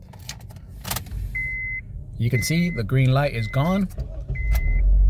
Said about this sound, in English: Car turns on just fine.